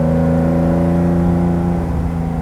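A 1970 Porsche 914-6 GT factory race car, its flat-six engine revving steadily after a downshift into second gear, heard from inside as a loud, sustained droning hum with strong tonal harmonics that ease slightly near the end.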